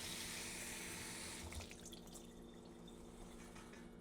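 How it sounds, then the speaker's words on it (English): Kitchen tap water runs steadily over parsley as it is rinsed. The hiss of the flow is continuous and fairly soft, and the spatter shifts a little partway through. "And I'm going to rinse this parsley off."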